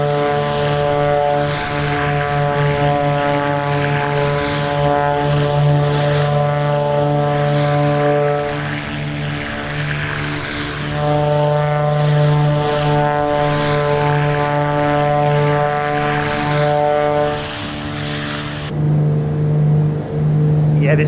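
Black Square Piston Duke twin piston-engine propeller aircraft in a flight simulator, a loud steady droning buzz with strong harmonics as the engines run at takeoff power, holding throughout with slight swells and a change near the end.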